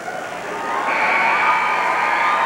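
A large crowd at a 2005 high school Central Coast Section final between Santa Cruz and Burlingame cheers and shouts continuously, a steady roar that swells slightly and holds, heard from a distance.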